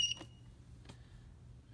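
A UPS unit on Spacelabs medical equipment gives a short, faint electronic beep as its power button is held at startup. A few brief tones stand out against a quiet background.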